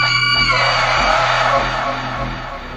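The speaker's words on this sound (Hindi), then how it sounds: "कुएं से एक खौफनाक चीख गूंजती है।" A loud, drawn-out horrifying scream echoing up from a well in a horror story, with rumbling low tones beneath it as it slowly fades.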